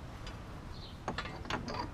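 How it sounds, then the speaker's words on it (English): A 3/8 torque wrench ratchets on hub bolts during a wheel bearing hub replacement on a 2011-2015 Chevy Volt, giving a few quiet, close clicking pawl strokes in short bursts. "I've switched out to my 3/8 torque wrench here to torque these hub bolts."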